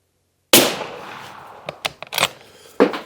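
A single sharp, loud Mauser M18 rifle shot at a target range in Scotland, with the blast decaying into a brief echo and a few fainter clicks and knocks after it.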